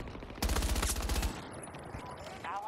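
Rapid automatic gunfire bursts out in a Battlefield 2042 firefight, a quick burst of closely spaced shots lasting under a second, followed by quieter scattered battle sounds and a faint voice.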